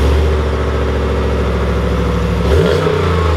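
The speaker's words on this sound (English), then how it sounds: "push the push start, and the truck will start right up" A 2020 Ram 1500 Big Horn pickup fires up by push-button start, its engine running as a steady loud drone, then a sharp shift in the rumble near the end as the revs settle.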